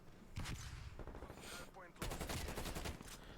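Bursts of Call of Duty Cold War gunfire, sharp rapid shots in two clusters with a short gap between them, close and loud.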